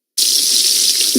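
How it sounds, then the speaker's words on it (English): Bacon sizzles on a grill with a steady, bright hiss that starts abruptly and holds loud and close throughout. "That is the sound of bacon sizzling"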